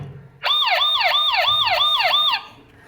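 A loud ambulance siren wails in a rapid rising-falling cycle for about two seconds, close by, then cuts off.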